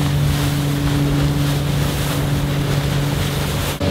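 Bluebird Charters boat motoring out across open water toward the Slate Islands: a steady, loud engine drone with wind buffeting the microphone and rushing water, no voices.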